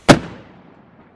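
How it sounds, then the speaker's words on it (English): One sharp, loud firework bang goes off close by outdoors near a wood fire, followed by a brief fading rumble with no voices. "We're setting off a firework."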